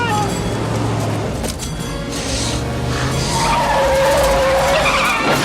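Car tyres skid and screech in a 1994 action film scene as a vehicle is driven in reverse at speed, a long continuous squeal with engine roar and crashing effects under a dense movie soundtrack, brief voice in the mix.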